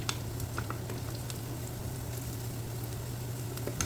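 Garlic sizzling in a frying pan alongside salmon, a steady low crackle and hiss throughout with small scattered pops, close and continuous with no talk.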